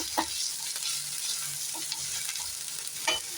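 Onions and green chillies for a masala dosa filling fry in a pan with a steady sizzle, while a spoon scrapes and stirs at irregular moments, close and clear with no talking.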